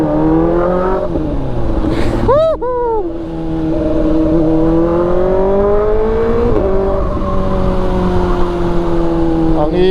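Kawasaki Ninja ZX-4RR motorcycle with a straight pipe exhaust, loud and close: a steady high-pitched idle broken by a few sharp throttle blips that rise and fall quickly, then a longer drawn-out rev.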